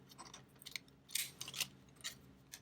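A handheld corner rounder punch snaps through the corners of a laminated washi sampler card, several sharp crisp clicks in quick succession close by, with no talk.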